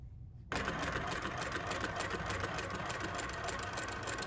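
A Juki LH-3528A industrial sewing machine runs steadily forward for about four seconds after a brief quiet start, its even mechanical whir and fast rhythmic needle clatter loud and close, with no talk.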